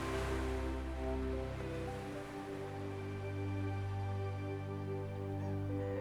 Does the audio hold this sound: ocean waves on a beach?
yes